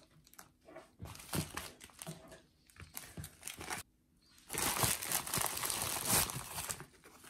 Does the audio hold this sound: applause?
no